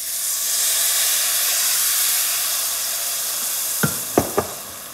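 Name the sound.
vegetable stock poured into hot browned rice, sizzling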